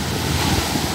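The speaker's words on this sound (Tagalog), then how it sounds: "Ang ganda ng alon ng dagat." Strong sea waves surge near a shore by Wafu Water Falls, a loud continuous wash of surf with wind buffeting the microphone.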